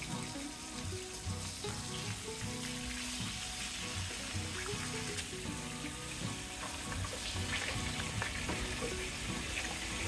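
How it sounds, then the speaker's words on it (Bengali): Pieces of katla fish fry in hot oil in a pan, a continuous, even sizzle heard close up with no voices. "এবার মাছের পিসগুলোকে আমি ভেজে নেব।"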